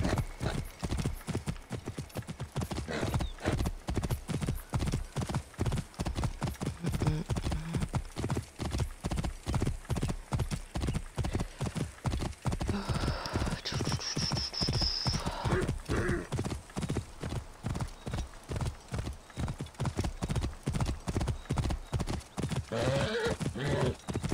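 Rapid, regular clip-clop of horse hooves galloping continuously in the video game Assassin's Creed Origins, with a horse whinnying midway and faint voices underneath.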